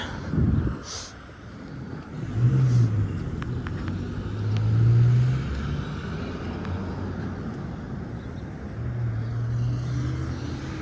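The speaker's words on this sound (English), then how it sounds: "Just gonna wait until traffic clears up for a few moments." Road traffic passing near a railroad crossing: low, rumbling vehicles swell and fade one after another, with gusts of wind buffeting the microphone throughout.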